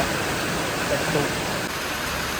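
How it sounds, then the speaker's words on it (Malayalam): Heavy rain pours down in a dense, constant roar, loud and close, with no breaks across the whole stretch. "സൂപ്പർ മഴ."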